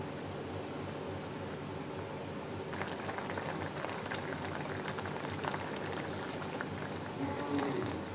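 Mango pieces with sugar simmer in a pan on a low gas flame, giving a steady soft bubbling and hissing that continues throughout with no talking.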